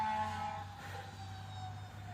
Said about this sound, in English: Could be that those fire engines are coming this way.